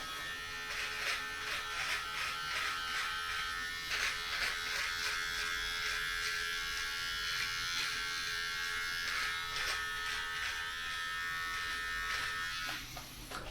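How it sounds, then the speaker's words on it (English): A steady, close electric buzz from a beard trimmer working along the throat under the beard with its comb removed, running continuously with small rhythmic flickers as it passes over hair, then tailing off near the end. "we're going to trim everything underneath the beard"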